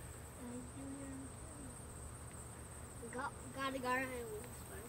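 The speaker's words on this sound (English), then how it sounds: "I think those are just regular grasshoppers or crickets or something making noise." Grasshoppers or crickets chirp outdoors in a steady, high, continuous drone that fills the background, while faint voices briefly rise near the end.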